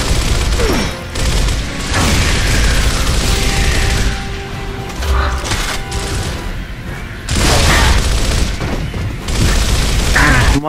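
Grenades blow up during a co-op firefight in Gears of War, giving loud, sustained booms and rumbling blasts mixed with gunfire. The bursts swell and fade across the stretch, with some heavy hits standing out.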